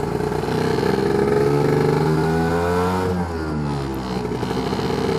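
Lambretta scooter fitted with a BGM PRO MZ30 sports exhaust, ridden at easy cruising speed: a steady, close two-stroke drone with rising and falling revs, fairly loud and alone with no talk.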